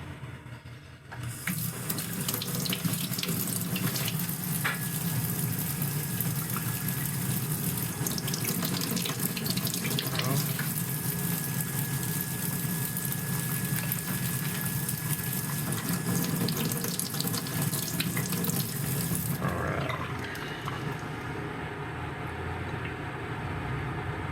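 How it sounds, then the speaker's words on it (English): Tap water runs steadily over tomatoes in a kitchen sink, a loud, constant rushing splash that lasts about eighteen seconds before cutting off, with no talking. "Next, I got my tomatoes. Oh, rinse these real quick."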